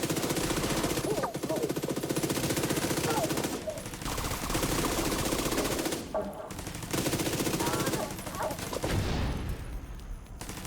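Sustained automatic gunfire in a video game, rapid bursts running almost continuously with brief pauses, loud and close, with a voice faintly underneath.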